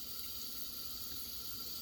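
Cold water runs steadily from a tap into a sink while a washcloth is rinsed, a continuous close hiss and splash with no voices.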